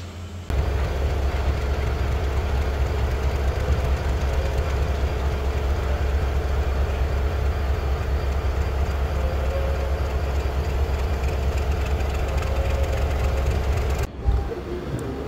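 The Tuna Express with new Korean coaches, serving the Dhaka–Chittagong route, stands at the station, a deep steady engine drone holding for about fourteen seconds before a brief break near the end.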